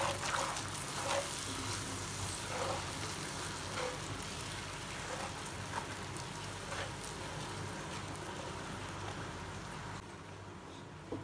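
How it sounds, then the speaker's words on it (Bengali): Mustard spice paste with salt and green chilies sizzles steadily in a hot pan while being sautéed for a Bengali hilsa-in-mustard curry, a continuous close frying hiss with occasional crackles and no talk. "পরিমাণ মতো লবণ, দিব কয়েকটি কাঁচামরিচ দিয়ে ভালো করে আমি এগুলো কষিয়ে নিব।"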